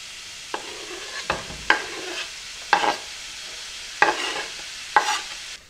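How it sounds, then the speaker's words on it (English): Onions added to ground beef browning in a pan for burrito filling. A soft, steady sizzle runs under several sharp spatula scrapes and stirs that come every second or so. "I'm going to go ahead now and add my onions to this."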